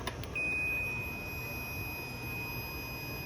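A multimeter's continuity tester, probing a shorted transistor during a vintage QSC amplifier repair, sounds a steady, unbroken high-pitched beep that starts almost immediately and holds for about three seconds, fairly quiet against faint background hiss.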